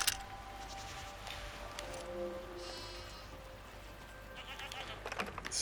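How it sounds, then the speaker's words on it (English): Goats in the video game Season: A Letter to the Future bleat several times over a quiet outdoor ambience, their calls moderately near and scattered rather than in a steady rhythm. "So many different goats."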